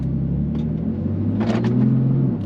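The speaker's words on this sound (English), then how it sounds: "It's got such a nice little growl to this engine." A 2015 BMW M3 in Sport Plus mode growls steadily from inside the cabin while driving, a low, loud engine drone that swells slightly near the end.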